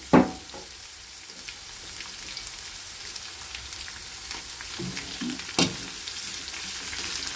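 Chopped onion sautéing in a pan of oil gives a faint, steady sizzle, with a few sharp clatters of a utensil against the pan near the start and toward the end.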